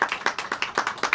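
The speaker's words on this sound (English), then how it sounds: "Clap it up, y'all." An audience applauds at a business masterclass, a short burst of hands clapping in quick, fairly even beats, close and moderately loud with no talking.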